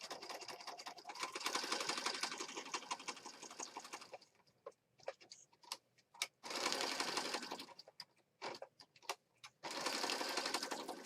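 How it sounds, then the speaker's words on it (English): A sewing machine runs a zigzag stitch on a junk journal page in steady bursts, a long run, then a pause broken by short stitching spurts and handling noises, then two more sustained runs, close and fairly loud with no talking. "So I'm just going to stitch around this with a zigzag stitch."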